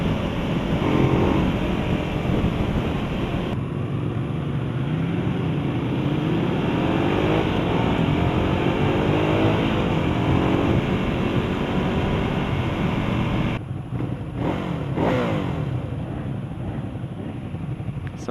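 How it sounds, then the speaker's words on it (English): A 2015 Ducati Hypermotard 821 motorcycle engine drones steadily and loudly while riding, with rising and falling pitch as the revs change and a brief dip near the end, joined throughout by strong wind noise. "Sounds like a dirt bike."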